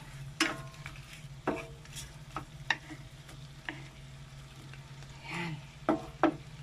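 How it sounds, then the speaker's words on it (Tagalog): A utensil stirs siomai and tuna pie frying in a pan, producing scattered scraping clicks and taps over a soft, steady background hum and faint sizzle, fairly quiet and close. "Halu-haluin na natin."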